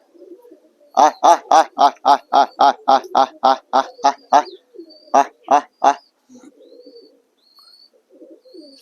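Domestic home pigeons at a house let out a rapid, rhythmic run of about a dozen loud, close calls, a brief pause, then three more, followed by faint softer cooing and quiet rustling.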